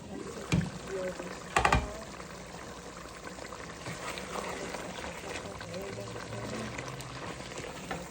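Mung dal is poured into a simmering pot with a rohu fish head, giving a couple of short pouring splashes early on, then a steady bubbling hiss.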